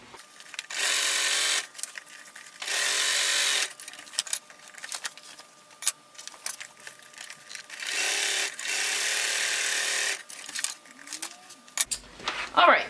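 A sewing machine stitching a bulky bag seam in several short bursts of fast, steady whirring, close and clear, with handling clicks and fabric shuffling in the pauses and a brief knock at the end.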